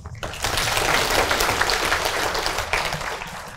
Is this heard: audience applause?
yes